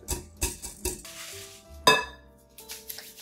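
A whisk stirs brown sugar, oil and Splenda in a bowl, making several sharp rhythmic clinks and scrapes against the bowl, close and clear, with quiet pauses between strokes.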